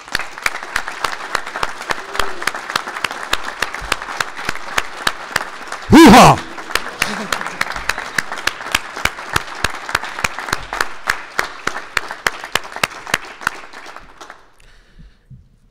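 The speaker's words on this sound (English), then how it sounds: "let's give them a long round of applause" A standing audience gives a long round of applause for a science internship program, sharp distinct claps spread across the room, a loud whoop shouted midway, the clapping thinning and fading out near the end.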